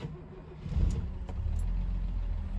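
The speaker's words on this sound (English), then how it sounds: "then you start the car again" A Mercedes 280SE pagoda with mechanical fuel injection cranks and fires up, then settles into a steady low idle close by, with a brief rattle of keys at the start.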